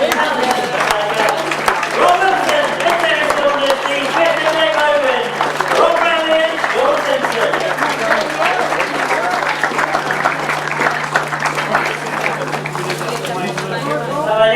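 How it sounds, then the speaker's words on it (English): An audience at a grasstrack motorcycle racing meeting claps and applauds the race winners, a loud, steady wash of clapping and crowd chatter that lasts throughout. "Let's give one last big round of applause for our winners."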